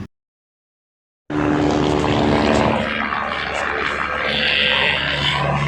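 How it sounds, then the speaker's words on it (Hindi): After a second of silence, a helicopter on the Kedarnath route starts up, its loud rotor engine roaring up suddenly and holding a steady whirring drone, close by. "अरे हेलिकॉप्टर सदा स्टार्ट हो गलानी।"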